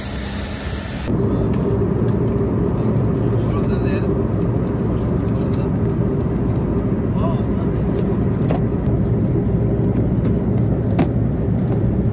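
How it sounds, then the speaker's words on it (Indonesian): Riding a shuttle bus: a steady, loud engine and road rumble fills the cabin without break, with faint voices now and then beneath it. "Jadi kayaknya kita bakal naik shuttle bus."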